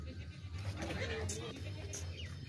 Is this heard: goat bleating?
yes